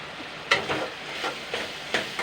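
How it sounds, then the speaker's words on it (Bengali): Potatoes are mashed and stirred in a pan. A soft frying hiss sits underneath a handful of distinct scraping and pressing strokes spaced about half a second apart, with no talking. "এবার আমি আলুগুলো কিন্তু এরকম ম্যাশ করে দেবো"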